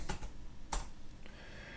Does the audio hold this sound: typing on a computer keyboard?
yes